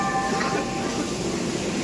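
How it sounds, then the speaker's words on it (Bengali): A train standing at Ambala railway station, with steady rumbling and humming of the stationary rail cars and faint mechanical tones filling the platform, no talk heard. "দেখুন আমাদের পিছনে ট্রেনটা দাঁড়িয়ে আছে, এটাই হলো আম্বালা স্টেশন"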